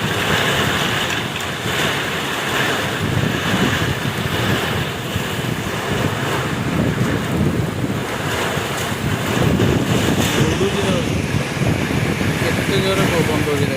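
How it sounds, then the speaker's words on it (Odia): Strong Kalbaisakhi storm wind roars loud and unbroken, with gusty buffeting against the microphone and rushing noise throughout, while a voice speaks over it at times. "କେତେ ଜୋରେ ପବନ ଦଉଛି ଦେଖ।"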